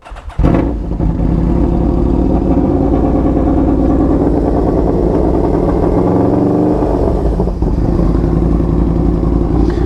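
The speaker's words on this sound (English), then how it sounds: "We'll let it warm up a bit here. So this is a 2006." A 2006 Yamaha V-Max motorcycle engine starts and settles into a loud, steady idle as it warms up, a close, throbbing rumble that holds evenly throughout.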